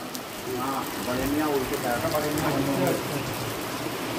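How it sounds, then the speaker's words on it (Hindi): Heavy rain falling in the hills of Uttarakhand, a steady broadband hiss of drops on surfaces, with a voice talking over it for most of the stretch. "ये बारिश की आवाज़ है"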